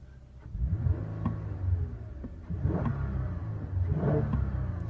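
A 2016 Toyota Avalon with a 3.5-litre engine accelerating, heard as a muffled, steady mid-range engine hum that swells in a few surges, subdued and well insulated, with no talking.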